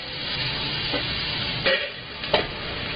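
A big pan of chunky homestyle pasta sauce cooking down, giving a steady soft sizzle and bubbling hiss with a few louder stirring scrapes near the end.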